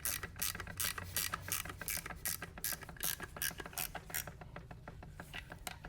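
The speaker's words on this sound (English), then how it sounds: "we're gonna mount this right here and we're gonna bolt it down" A bolt is tightened down with a ratcheting tool while mounting a gated manual shifter conversion on a Lamborghini Murcielago, giving a fast, steady series of clicks, moderately close and alone.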